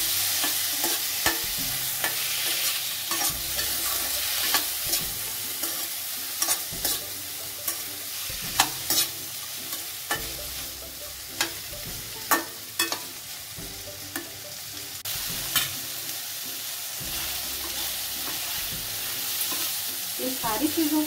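Fried potatoes and tomato are stirred in a frying pan, with a sizzling hiss under repeated sharp spatula scrapes and knocks against the pan that recur irregularly.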